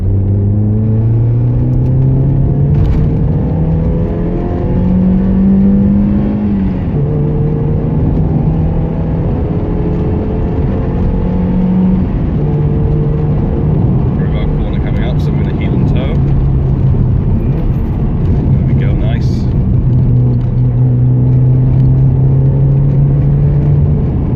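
A Mazda 323F with an aftermarket exhaust drives steadily with a deep, rumbling exhaust drone that rises and shifts with the gears, loud and continuous from inside the vehicle.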